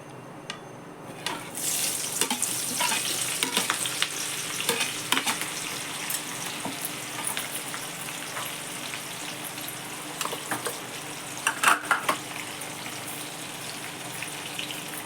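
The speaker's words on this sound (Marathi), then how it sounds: "फोडणी घालू" Hot oil sizzles in a pan while spices are tempered for poha chivda, a steady crackling fry with scattered pops and spatters, starting quietly and holding at moderate loudness throughout.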